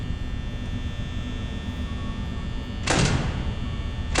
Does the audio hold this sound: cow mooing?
no